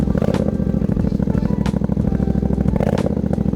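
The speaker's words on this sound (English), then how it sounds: "You want to basically give it a few revs with the throttle." A carbureted motorcycle engine warming up runs with a rough, rapid idle and a few blips of revving, loud and close, with brief clatter.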